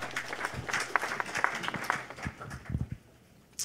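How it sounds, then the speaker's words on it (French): Scattered audience clapping at a community gathering honoring a woman, fairly faint and uneven, with individual claps standing out before it fades near the end. "Je vous demande d'applaudir très fort Madame Mivine Altidor."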